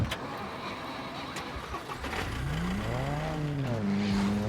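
Vehicle engine in the video game Scum cranking and catching, then a rising, wavering rev that climbs and dips with faint tire noise, loud and close.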